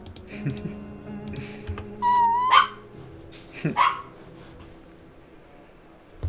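A person's voice imitating a narwhal with two short, high, squeaky squeals, the first slightly longer, set against quiet background rustling and faint knocks.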